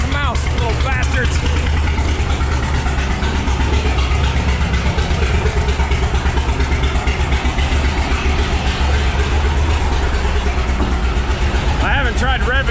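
A 1957 Autocar truck engine idles steadily after its first start in 15 years, a loud, continuous low rumble with a slightly uneven beat as if not firing on all cylinders, while people talk over it.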